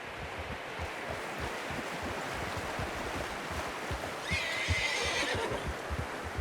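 A horse whinnies over steady outdoor ambience and soft hoof thuds in the video game Red Dead Redemption 2, the neigh rising clearly near the end.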